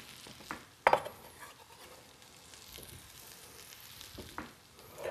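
Garlic cloves sizzle softly in butter in a pan, a quiet steady frying hiss with a few sharp clinks of a utensil against the pan near the start and end.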